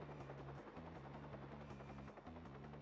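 Helicopter in the Watch Dogs game hovering overhead, a steady rhythmic rotor chop with pulsing low beats, fairly faint and unbroken, no talk.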